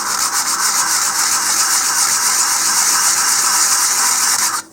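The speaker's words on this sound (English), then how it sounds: "Take a little 150 grit sandpaper." A part for an Apogee Components Kestrel model rocket is sanded with 150 grit sandpaper, giving a steady, loud, close rasping rub that continues evenly for several seconds before stopping abruptly.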